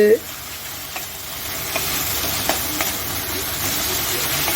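Ginger garlic paste sizzling in a hot pan for katla fish curry, a steady close frying hiss punctuated by occasional light clicks of a stirring spatula.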